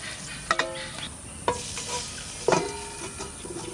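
Fish, likely magur or other pond catch, frying slowly in a pan with a little water, giving a steady soft sizzle broken by a few sharp stirring clatters of a utensil, close and alone.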